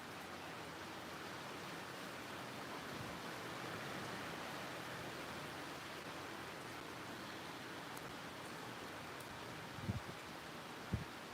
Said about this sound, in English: Yep, she's raining now.